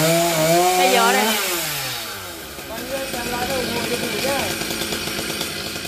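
A chainsaw engine revs and whines, its pitch sweeping up and down as it bites into a coconut tree, loud and close with a rough buzzing texture.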